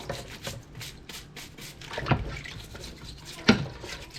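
Crab being scrubbed with a food brush while it is washed, soft repeated brushing and rubbing with wet drips and a couple of sharper knocks, quiet and close.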